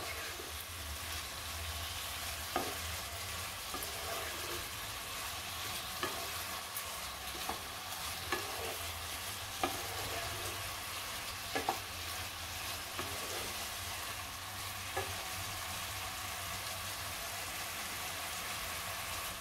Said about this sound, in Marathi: दोन मिनटं आपण साखरेच्या पाकामध्ये पण शिजवायचं आहे